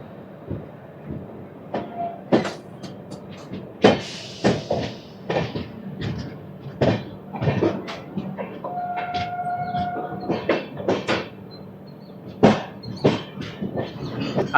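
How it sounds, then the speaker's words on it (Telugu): A passenger train hauled by a Guntakal-shed diesel locomotive near Renigunta, heard as a steady rolling rumble with repeated sharp clanks and rattles of the coaches over the track, fairly close and continuous, with no speech. "డీజిల్ లోకోమోటివ్, గుంతకల్కి సంబంధించిన డీజిల్ లోకోమోటివ్ ఇది."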